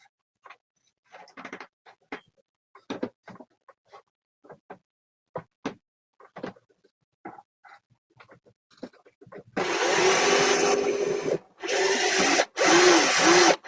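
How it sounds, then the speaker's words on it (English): Scattered clicks and light knocks, then a power drill whirs in loud bursts drilling a hole in an old shelf, stopping briefly between runs. "to drill a hole here"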